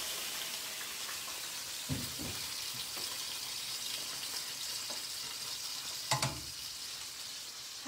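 Food hitting a very hot pan with garlic-infused oil while cooking caramelized tomato sauce, a faint steady sizzle with two brief louder clatters, heard alone without talk.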